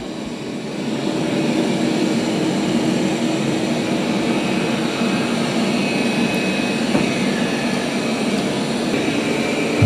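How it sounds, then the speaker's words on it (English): A Roborock S8 Pro Ultra robot vacuum runs on carpet, giving a loud, steady whirring drone that holds evenly from start to finish. "And the Roborock is louder on vacuuming carpet."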